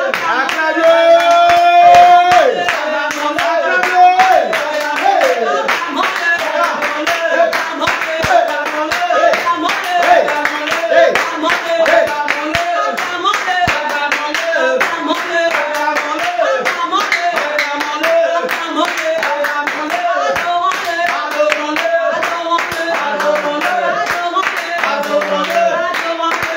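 A worship congregation at a home prayer gathering claps hands steadily in rhythm throughout, layered with singing and music, loud and continuous.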